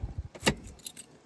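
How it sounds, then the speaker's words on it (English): Car keys jangle briefly as an ignition is switched off, a short close metallic rattle with a faint thump, after a car has just been driven a few miles. "I'm gonna turn the car off again"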